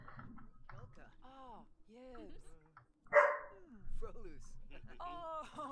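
A pet dog barks in the video game The Sims 4, sharp sporadic barks and yips mixed with voiced game chatter, with one louder bark standing out midway.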